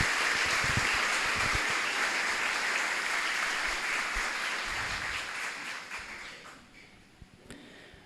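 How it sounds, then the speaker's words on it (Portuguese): An audience at a gathering bursts into sustained applause, dense clapping that holds steady for several seconds and then gradually fades to scattered claps and quiet. "Palmas para eles,"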